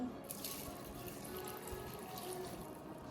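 Water splashes and trickles steadily into a pot for chicken soup that already holds onion and coriander seeds, a faint continuous pouring with small drips and no talk.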